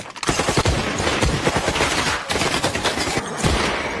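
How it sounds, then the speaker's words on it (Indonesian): Dense bursts of gunfire crackle through a movie shootout, rapid overlapping shots fired by both sides in a loud, relentless fusillade. "mereka langsung menembakkan senjatanya masing-masing"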